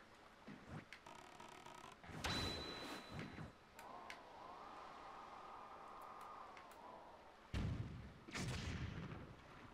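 Cannon shots in The Legend of Zelda: The Wind Waker, with a few booming blasts around two, three and eight seconds, and a sustained tone between them.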